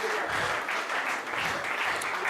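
A church congregation gives dense, continuous applause, many hands clapping together in a loud, sustained wash of sound.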